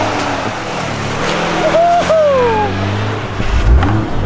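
A Nissan Patrol 4x4 with a turbo drives off-road in a state park near Melbourne, its engine a steady close drone throughout, with a faint whistling whine rising briefly in the middle and no clear talk.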